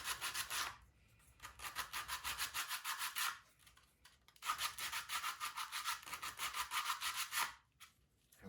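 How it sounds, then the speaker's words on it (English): Wooden doll's neck being sanded by hand, a steady rasping rub in two long bursts of back-and-forth strokes, close and loud, separated by brief pauses. "the neck is much easier to sand like this"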